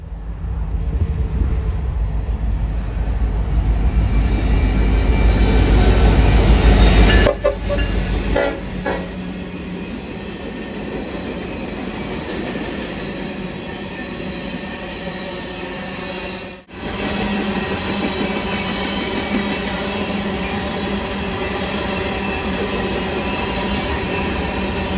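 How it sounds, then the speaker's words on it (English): BNSF 6026 running as the first distributed power unit on a coal train headed north toward Wyoming: loud diesel rumble passing close, then a long steady roll of rail cars with rhythmic wheel clatter and a brief dip midway. "we see Bnsf 6026 as the first DPU on a coal train heading back up north to Wyoming"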